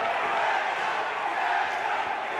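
Spectators at an MMA bout keep up a constant cheering roar with scattered shouts, while a voice talks over the noise.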